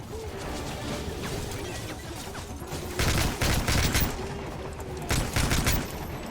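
Gunfire from the video game Call of Duty Modern Warfare 3, steady clattering bursts over a low rumbling game soundtrack, with two louder volleys standing out toward the middle and end.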